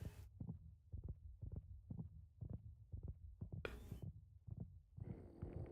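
Minecraft warden heartbeat from the video game: a steady run of deep, muffled double thumps about twice a second, with a brief burst of hiss midway and rustling near the end.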